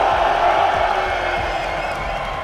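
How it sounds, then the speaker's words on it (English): A packed esports arena crowd at a BLAST Counter-Strike tournament final roaring, cheering and whooping together in a loud, dense wall of noise that slowly eases off. "Everyone, on 3, make some noise for me."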